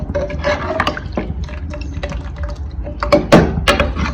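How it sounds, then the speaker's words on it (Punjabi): Water poured from a glass into a pan of sour-sweet raw mango curry gives a steady, close, splashing fill that grows louder and brighter toward the end, with no one speaking over it. "ਥੋੜਾ ਜਿਹਾ ਪਾਣੀ ਮੈਂ ਤਾਂ ਗਲਾਸ"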